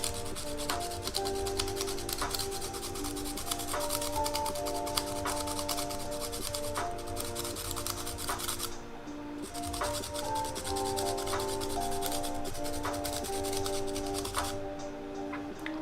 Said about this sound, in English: So I'm going to sharpen up a little bit my purple. So this is like a sandpaper, and I have to go like this